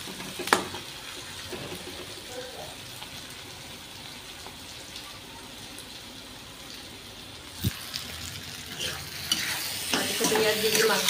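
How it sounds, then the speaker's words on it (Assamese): Chopped onions stir-fried in a pan until golden for a home-style local chicken curry, with a steady sizzle and occasional stirring scrapes and clinks, plus a louder splash of liquid and spatter toward the end. "ঢালি দিলোঁ পিঁয়াজটো অকণ কি গল্ডেন ফ্ৰাই অলপ হ'ব তেতিয়ালৈকে আমি ভাজি থাকিম"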